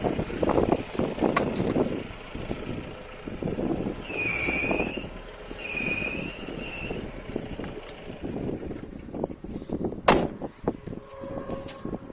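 A Mahindra Bolero diesel SUV engine revs up close, a loud rough rumble rising and falling, with a thin high whine surfacing midway and a sharp knock near the end.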